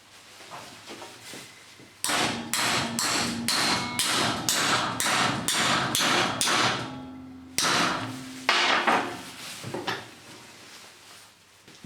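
A metal handle bar clamped in a vise is bent with a run of loud, sharp metallic blows in steady rhythm, a brief pause, then a few more strikes, close up with no voices.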